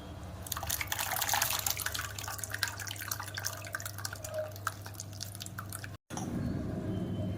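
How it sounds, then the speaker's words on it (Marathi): Tamarind pulp is poured into seasoned pani puri water, heard as soft, close dripping and wet liquid splashing that runs steadily, then cuts off briefly before resuming. "मी ह्या चिंचाचा कोळ बनवून ह्याच्यात टाकून घेते"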